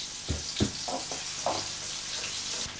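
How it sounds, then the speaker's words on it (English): Onions sizzle steadily in a hot frying pan on an electric stove, a continuous crackling hiss with a few soft clinks and stirs close by. "the fried onions, which are now sizzling in the pan on the electric stove"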